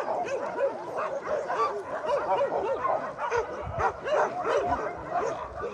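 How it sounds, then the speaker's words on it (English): Several dogs at an animal shelter barking, yipping and whimpering at once in a busy, continuous chorus, fairly close and loud with no talk. "There are dogs everywhere."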